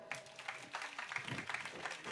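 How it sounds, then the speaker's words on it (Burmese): Audience applause at a Burmese comedy troupe's show: a dense, steady wash of clapping hands lasting about two seconds, fairly even in loudness, with a voice speaking over part of it. "အစင်ပြေလက်ခုပ်သားလေးပြပါဦးဗျာ"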